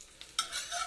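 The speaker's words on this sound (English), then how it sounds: "So I've got my garlic frying there." A brief burst of oily sizzling as garlic fries in a pan, with a soft clink of a utensil, close up.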